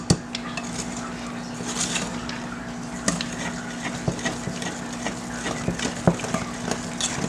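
Spatula scraping and mixing pumpkin cake batter in a bowl, giving irregular knocks and scrapes with sharp utensil-on-bowl clicks over a steady low hum, close and moderately loud, with no talking.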